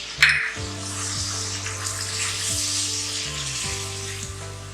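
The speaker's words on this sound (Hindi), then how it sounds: "टमाटर को डाल के हम अब अच्छी तरह भूनेंगे।" Steady sizzling and crackling of tomatoes frying in a pot with red chili powder, close and continuous, with a low background hum and a brief clatter at the start.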